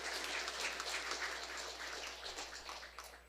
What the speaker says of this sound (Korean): 여러분 박수 한번 하늘 앞에 올려주시기 바랍니다.